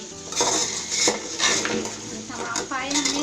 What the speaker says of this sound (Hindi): तो तमाम के तमाम जो पाए हैं वो अब हम इसमें निकाल करके डालेंगे।